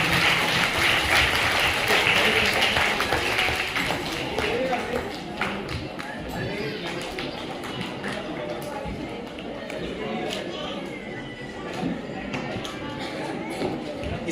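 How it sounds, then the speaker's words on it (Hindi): An audience at a school naat competition in Aurangabad claps loudly at first, the applause thinning and fading over the following seconds while voices talk over it. "जोरदार तालियां बजाएं।"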